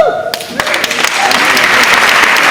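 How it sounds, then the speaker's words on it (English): Audience applause breaks out at a tech talk with the Instagram founders, a dense broadband patter of many hands that swells and holds steady after a brief opening voice, filling the room at close range. "Let's give a big round of applause to Kevin and Mike."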